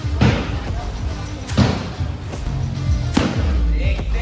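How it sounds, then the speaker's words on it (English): Heavy thuds from strikes to the stomach during Thai boxing training in a gym in Koh Samui, Thailand, land as three or four spaced, punchy impacts amid background voices and gym noise. "those sounds you hear, someone getting smashed in the stomach to make them stronger"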